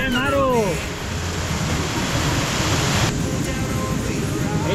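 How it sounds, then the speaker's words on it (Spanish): Sea waves breaking on a wild beach at Maro, a loud, steady roar of surf filling the whole stretch, with a brief voice near the start. "ese sonido tan impresionante que nos da la ola del mar"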